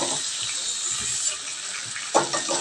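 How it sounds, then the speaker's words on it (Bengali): Water drains and splashes steadily off washed drumstick pieces in a kitchen, a continuous close rush with a brief louder splash near the end. "তো দেখো জলটা ঝরিয়ে নিয়ে এই সজনা ডাঁটাগুলো এর মধ্যে আমি দিয়ে দিলাম"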